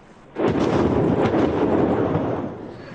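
A distant NATO missile strike on Tripoli sets off a sudden deep blast that swells into a long, rumbling roll, echoing heavily before slowly fading.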